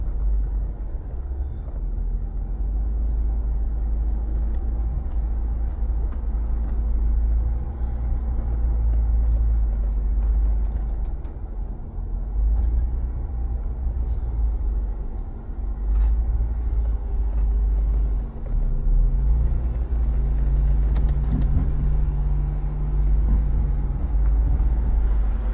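An off-road vehicle crawls slowly over a rock obstacle at Sunflower Mine, its engine giving a steady, deep, continuous rumble that stays loud and close throughout with no talking.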